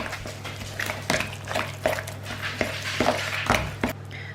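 A spoon clinks and scrapes in a bowl while ripe banana mixture is stirred, with irregular tapping strokes at a steady pace, close and fairly quiet, no talking.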